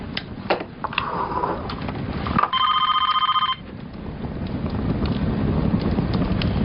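A prepaid overseas phone rings once, a bright electronic trill lasting about a second amid windy background rumble, with faint clicks before and steady wind noise afterward.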